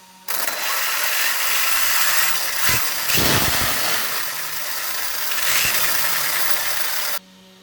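Arrma Felony RC car running dual motors on two ESCs and two 6S batteries, both switched on, giving a steady broadband whirring hum with brief low thumps midway, cutting off abruptly near the end.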